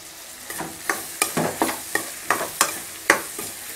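Instant mango pickle being stirred and sautéed in a pan over medium heat, a steady sizzle broken by about a dozen sharp scraping strokes of the spoon at a regular pace, close and clear with no talking.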